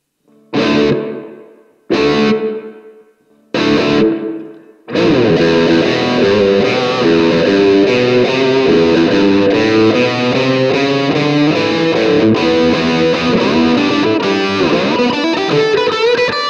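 Electric guitar played through a Blackstar AMPED 2 with reverb: three loud struck chords ring out and decay, then dense, sustained distorted playing continues up close with no talking.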